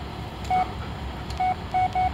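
A phone in the video game Blair Witch sounds its voicemail tone as four short clean beeps, one alone and then a quick group of three, loud and close over a low hum.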